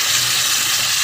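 Onion fries in a pan for Egyptian koshari, producing a loud, steady sizzle right up close with no break and no speech.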